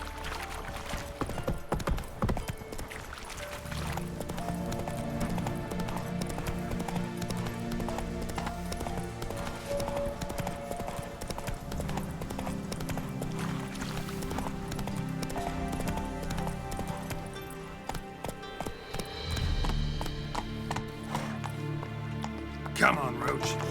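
Roach, the horse in The Witcher 3, galloping with steady rhythmic hoofbeats and occasional snorts over game music and ambient sound, while voices talk intermittently.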